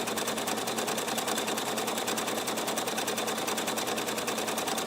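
Husqvarna Viking Ruby Royale sewing machine stitching a buttonhole, a fast steady mechanical whir with rapid even needle rhythm, close and continuous throughout with no talking.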